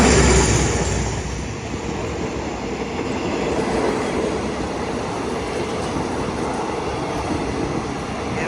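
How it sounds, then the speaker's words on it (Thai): Thai rapid train No. 169, bound from Bangkok Apiwat toward Yala, rumbles steadily past close by, a continuous loud roar of rolling rail cars and wheels with faint clatter and no voices. "ทำขบวน รถเร็วที่ 169 นะครับ ต้นทางกรุงเทพอภิวัตนะครับ ไปทางยะลานะครับ"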